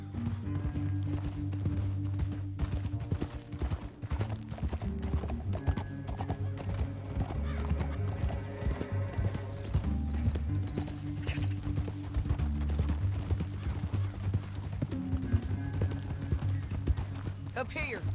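Horses gallop with rapid clip-clopping hooves and occasional whinnies in a Red Dead Redemption 2 gameplay scene, steady and close, with game music and voices talking over the hoofbeats throughout.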